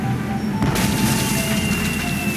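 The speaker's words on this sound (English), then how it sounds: "It's amazing how many of life's problems are solved by indiscriminate cannon fire." Cannon fire from the video game Tales of Monkey Island, a new Hungarian easy-action cannon, a loud boom bursting in about midway through and then rumbling on under a steady noisy backdrop with a thin sustained tone.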